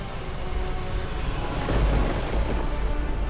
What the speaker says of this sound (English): the immense storm rages through Washington, dousing most of the flames